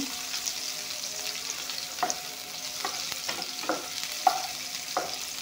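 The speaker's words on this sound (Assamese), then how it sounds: "পিঁয়াজখিনি অলপমান ৰিফাইনত ভালকৈ ভাজি লৈ" Onions frying in refined oil in a pan, a steady sizzle broken by several spaced scrapes and clatters of a spatula stirring, fairly close.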